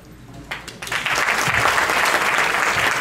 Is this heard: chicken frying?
no